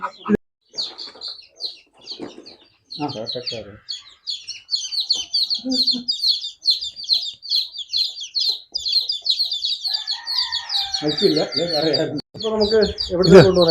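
Many chicks chirp continuously in high, rapid peeps, with clucking and voices talking underneath.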